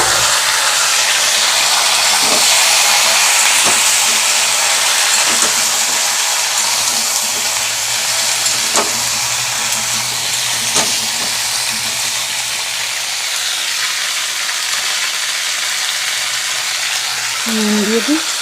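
Chopped vegetables, including sweet potato, frying in a pan of hot oil, giving a loud, steady sizzle and hiss with occasional soft stirring taps, close up and without talking.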